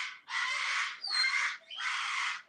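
A pet bird gives three loud, harsh squawks in quick succession, each lasting about half a second, with short gaps between them and no talking.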